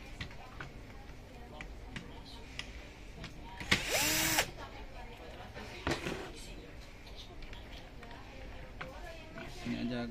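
A power screwdriver backs bolts out of an HP CP1025 printer, one short loud high-pitched whir lasting under a second, with quieter clicks and workshop handling noise around it and a voice nearby.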